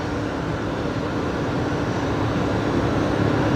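A Jetstar airliner, flight 813, departs Brisbane Airport for Sydney: a steady, broad jet engine roar holds at an even level throughout, with no voices over it.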